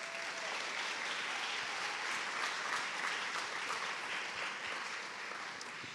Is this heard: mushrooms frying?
no